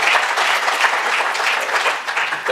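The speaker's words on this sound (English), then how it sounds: "I hope that you'd give him some great applause." Audience at a formal event for a US official on Afghanistan and Pakistan affairs breaks into sustained applause, a dense wash of clapping from a sizable crowd, loud and even for the whole stretch.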